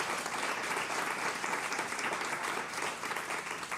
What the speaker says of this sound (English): Give them also a round of applause.